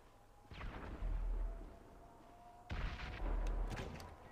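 Two deep, booming explosions in the video game GTA 5, one at about half a second and another near the three-second mark, each with a rolling low rumble that lingers and fades, fairly quiet overall.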